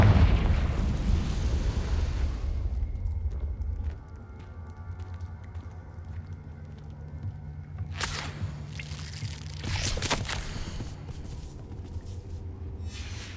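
Confringo blasting spell in Hogwarts Legacy erupts with a heavy, rumbling explosion that fades, followed by a quieter lull and then two more sharp bursts of crackling debris.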